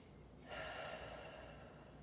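A single deep breath drawn in during an at-home stretching session, a soft airy rush that starts about halfway through and holds steadily close to the mic.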